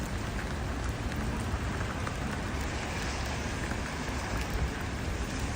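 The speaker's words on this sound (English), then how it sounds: "Icy rain." Icy rain falls steadily in the streets of St. Petersburg, a dense, even hiss of drops on the ground and nearby surfaces that holds constant throughout, with no voices.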